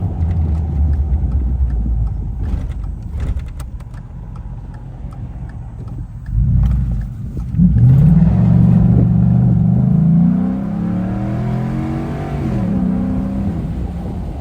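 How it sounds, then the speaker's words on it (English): A 2013 Ford F-150 with a 5.0 V8 and a cold air intake idles loudly and close, then revs several times with a deep, throaty rise and fall. "When I rev it sounds a lot different. More gargle, a lot beefier."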